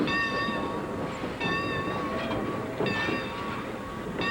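A train runs along the rails with a steady rumbling roll and sustained high metallic wheel squeal, which swells and fades in repeated waves at moderate loudness.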